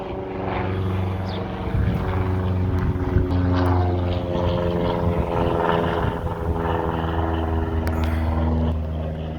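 A propeller airplane flying overhead, a loud, sustained droning engine hum with steady tonal layers that swell and linger for several seconds, with faint talk underneath.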